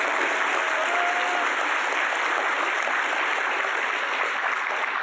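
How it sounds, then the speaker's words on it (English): An audience at a school graduation claps in a dense, steady burst of applause that lasts the whole clip at a constant loud level, with a brief voice faintly under the clapping. "Let's give him a big applause."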